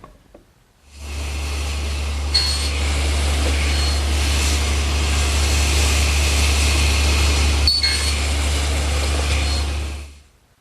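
A table saw makes a shoulder cut across a table board: the motor spins up into a loud, steady roaring whine that holds for several seconds with brief bites of the blade, then winds down, with no talk.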